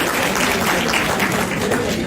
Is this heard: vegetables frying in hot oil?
no